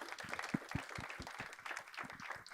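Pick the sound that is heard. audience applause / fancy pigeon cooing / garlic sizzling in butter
audience applause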